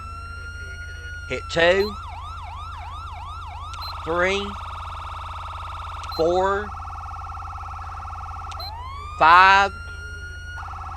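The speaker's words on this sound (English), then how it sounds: "in order to turn on your siren, hit the number 1 on your keyboard." In the LSPDFR police game, a police car siren cycles through several tones in short wailing and yelping bursts over a steady electronic hum. Someone speaks between the bursts.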